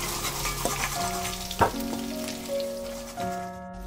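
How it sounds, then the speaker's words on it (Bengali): Potato pieces fry in oil in a pan, with a soft, steady sizzle and a few sharp spatula clinks and stirring knocks close by. "আলুগুলোকে ভেজে নিচ্ছি"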